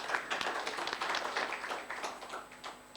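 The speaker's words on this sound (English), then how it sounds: "Let's clap for these young people." An audience at a summit claps for a group of young people, a faint, dense patter of many hands sustained for several seconds.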